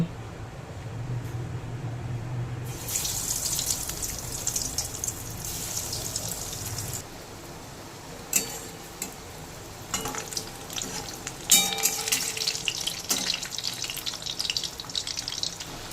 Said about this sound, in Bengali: তেল গরম হয়ে গেলে নাগেটসগুলো এর মধ্যে ছেড়ে দেব